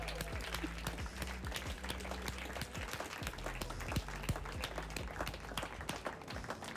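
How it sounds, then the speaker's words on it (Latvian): Audience applause greeting a guest at a live Latvian talk show taping, many hands clapping in a dense, fairly faint patter that continues steadily. "aplausiem!"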